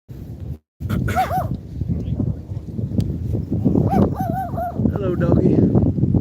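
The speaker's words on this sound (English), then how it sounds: "Hello, doggy." A dog outdoors during a daytime workout walk gives a few short, high yips or barks over steady outdoor background noise.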